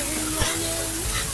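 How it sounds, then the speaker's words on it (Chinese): Sauce poured into a hot wok with pan-fried tofu and scallions hisses in a loud, close burst of sizzling, steady across the brief moment. "把剛剛的醬汁倒進去。"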